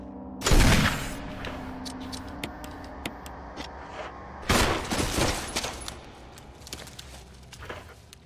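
Revolver shots ring out in the Resident Evil REmake video game, two loud gunshot bursts several seconds apart. Between them come clicks, ticks and faint game sounds.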